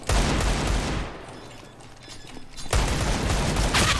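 Gunfire in the video game Counter-Strike: dense rapid shots burst loudly, ease into a quieter lull, then a second heavy volley of rapid fire resumes.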